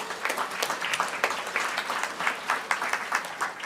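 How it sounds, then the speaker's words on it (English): Audience applause at an indigenous business award ceremony, a steady patter of many hands clapping for a few seconds, fairly close and even, with no voices over it. "I wanted to give a round of applause to everybody in this room."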